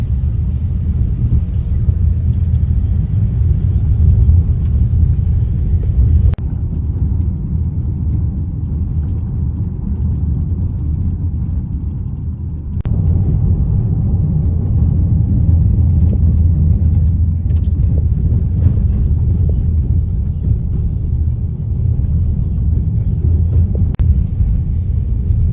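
Steady low road rumble from a car cruising along a concrete road outside the city, continuous and fairly loud, with faint periodic thumps from slab joints.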